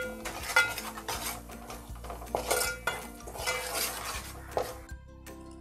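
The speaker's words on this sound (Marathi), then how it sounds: "मसाला तेलावर परतून घेते" Masala stirred and fried in hot oil for a Bombay duck (bombil) curry: a busy clatter of a metal spoon scraping and knocking the pan over a faint sizzle, fairly close and continuous.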